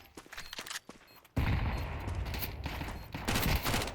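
Dense burst of rapid gunfire in a Counter-Strike match, starting abruptly after a quieter opening with scattered shots, then sustained loud overlapping automatic fire with several sharp volleys.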